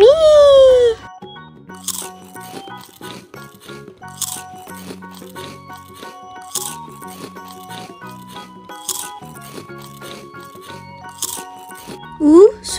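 Crunchy bites of strawberry Hello Panda biscuits, with crisp chewing crackles and short rustles, close and clear, opened and closed by brief high-pitched voice sounds.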